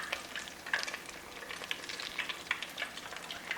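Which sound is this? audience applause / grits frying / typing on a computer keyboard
grits frying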